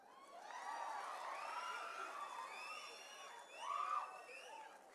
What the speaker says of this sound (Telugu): మీరు చప్పట్లు కొట్టండి